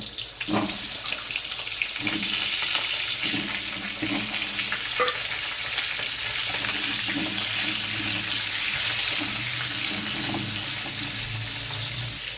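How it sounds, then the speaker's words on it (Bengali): Continuous crackling sizzle of food frying in hot oil, close and steady, with occasional clinks and stirring sounds. "যতক্ষণ আলুটা ভাজা হচ্ছে"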